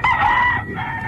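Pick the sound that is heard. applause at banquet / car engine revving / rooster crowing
rooster crowing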